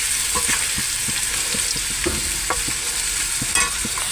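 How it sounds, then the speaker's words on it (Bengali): Onion and potato fry together in a pan, a loud continuous sizzle with frequent soft knocks and scrapes of a spatula stirring through it. "তো বন্ধুরা দেখো পেঁয়াজ আর আলু দিয়ে দিয়েছি, আমি একসাথে ভেজে নিয়েছি।"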